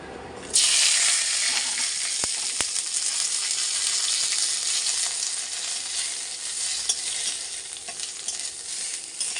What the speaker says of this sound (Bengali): জিরে দিয়ে দিলাম আর তেজপাতা দিলাম